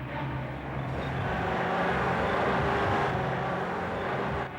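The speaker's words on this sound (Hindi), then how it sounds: "सर किसी गाड़ी की आवाज आ रही है" A car engine swells from a low rumble as the vehicle draws nearer, holding steady and fairly close before easing slightly at the end.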